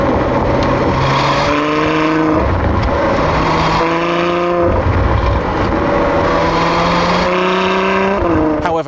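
Ferrari F12 Berlinetta V12 exhaust with valves under automatic control, loud and close, the engine note rising and falling through repeated revs and gear changes, held steady for long stretches between shifts.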